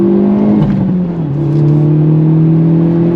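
2023 Hyundai Elantra N engine revving loud and close under throttle through a long bend, a steady droning note that dips briefly then climbs and holds.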